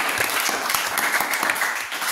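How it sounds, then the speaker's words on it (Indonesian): A short burst of applause from a small group of students after a group discussion presentation, scattered hand claps filling the whole moment. "Tepuk tangan untuk kelompok"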